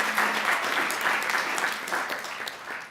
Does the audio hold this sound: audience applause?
yes